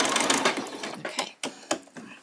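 A sewing machine sewing a doll's skirt runs in short rhythmic bursts with brief pauses as it reverses for a back stitch, heard up close.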